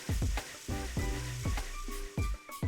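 Poblano peppers and portobello mushrooms sizzle loudly and steadily on a grill, charring and blistering. Pulsing surges come through beneath some tonal squeaks.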